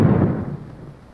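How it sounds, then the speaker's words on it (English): A letter bomb detonated between a bank of fluorescent tubes gives one sharp, loud blast that rumbles and fades away over about a second, with no voices. "a letter bomb will be detonated between a bank of fluorescent tubes"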